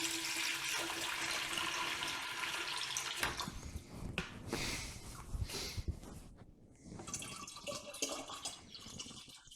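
Water poured into a homebrew jug for a milk stout, a close trickling and splashing stream that gives way to gurgling bursts and drips, fairly quiet with no talking.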